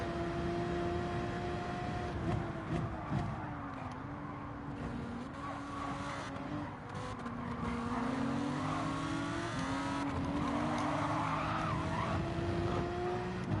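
Race cars in Gran Turismo 7 at Dragon Trail Gardens howl and squeal their tyres as a Lamborghini loses control out of the chicane, with sustained engine drone, revving and skidding throughout.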